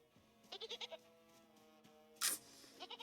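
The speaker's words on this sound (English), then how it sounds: "Well, now we have a baby goat." A baby goat in the video game Reka bleats in short quavering bursts, a few soft cries with a louder sharp sound midway, faint and close in a quiet scene.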